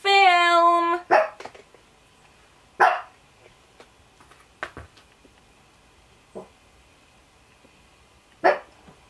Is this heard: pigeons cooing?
no